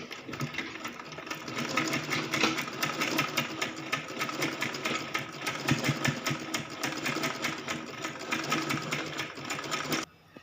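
Sewing machine stitching the panels of an umbrella skirt, running in one continuous, steady, fast-rattling burst for about ten seconds at close range before stopping, with no talking.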